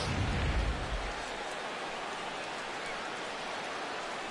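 Steady rain pours over an outdoor baseball stadium during an MLB All-Star Game in Washington, D.C., a constant, moderately faint hiss with a brief low rumble at the start.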